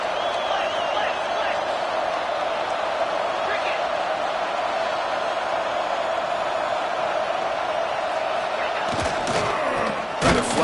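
Steady stadium crowd roar in a video game football match, loud and continuous throughout, with a burst of thuds and louder crowd noise near the end.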